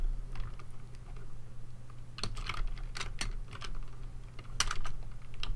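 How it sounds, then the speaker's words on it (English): Typing on a computer keyboard, with light key taps and a few sharper bursts of clicks over a low steady hum, close and fairly quiet. "The reason why I'm typing out the names"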